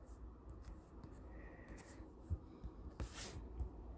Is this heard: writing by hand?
yes